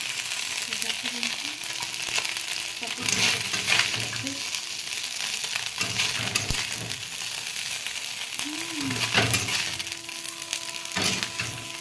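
Small fish frying in a pan make a steady, dense sizzle throughout, with occasional stirring scrapes and clinks close up, while a voice speaks briefly in the background.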